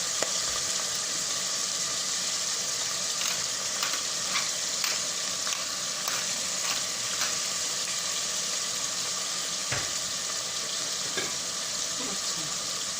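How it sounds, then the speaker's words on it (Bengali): Chicken pieces for a Thai chicken noodle soup frying in a pan, giving an even, continuous sizzle with light crackles and a few clicks. The sound is close and there is no talk. "এটা যখন ভাজা হচ্ছে আমি এর উপরে একটু গোলমরিচের গুঁড়ো দিচ্ছি।"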